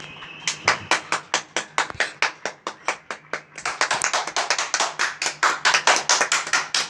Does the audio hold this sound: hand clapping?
yes